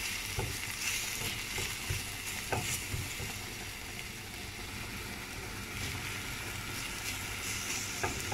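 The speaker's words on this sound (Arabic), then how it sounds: "كنشحر هاد المكونات مع بعضياتهم" Onion, garlic and fresh herbs sautéing in a pan, a steady soft sizzle with occasional light stirring clatters throughout.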